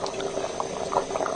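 Water with chickpeas rolls at a vigorous boil in a pot, a dense continuous bubbling and popping close by, with no talk.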